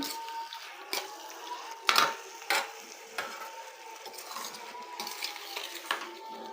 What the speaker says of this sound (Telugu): చక్కగా ఇప్పుడు మనం తిప్పుకోవాలండి.